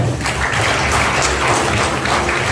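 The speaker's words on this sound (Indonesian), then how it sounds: "Ya, tepuk tangan buat Bapak Ibu semua." Audience applause at a seminar, a dense, loud, steady roar of clapping filling the hall with a low rumble beneath it, continuous from start to end.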